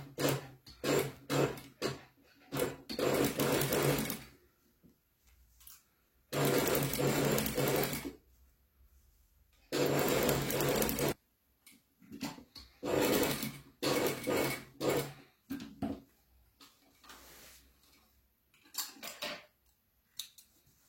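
A sewing machine stitches parallel seams on a fabric bag in several loud bursts of rapid whirring, broken by short pauses and quieter handling clatter, up close with no talking.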